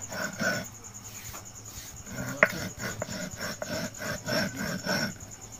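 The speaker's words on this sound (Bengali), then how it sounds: "আর এই যে কিছুটা বেটে নিচ্ছি," Roasted rice being ground by hand for chhatu makes a soft, repetitive gritty rubbing and scraping, with a few sharper knocks, close and fairly quiet with no talking.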